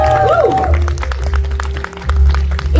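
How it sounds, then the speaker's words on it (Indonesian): An audience at a press conference breaks into applause, a close, steady patter of many hands clapping that follows a brief tonal sound at the start and continues to the end. "beri tepuk tangan yang paling meriah"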